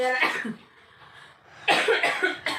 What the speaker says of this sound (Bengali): এই দেখো কাশি হয়েছে